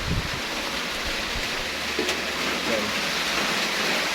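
Heavy storm rain pours steadily outside a lone hut in the countryside, a dense continuous hiss with a low rumble underneath and no clear voices.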